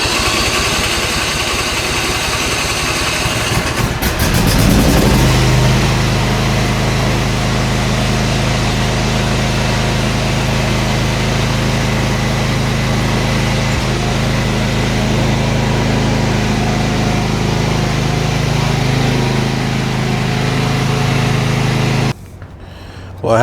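A lawn mower engine that has sat a long time and lost its fuel prime, running steadily at a loud, close idle for about twenty seconds before cutting off abruptly near the end.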